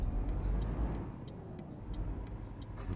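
A car pulls away on a road trip, a steady low engine rumble carrying through the cabin with a regular faint ticking, like an indicator, repeating throughout.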